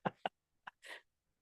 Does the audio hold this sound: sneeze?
yes